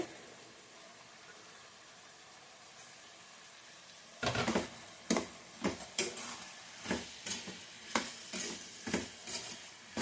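Vegetables cooking in a pan for rice upma in a home kitchen: steady low sizzle, then after a few seconds a run of regular clattering scrapes and stirs, close and moderately loud, with no talk.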